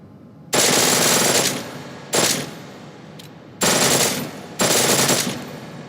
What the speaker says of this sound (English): The pistol in full auto will take down targets fast, but it'll burn through your ammo.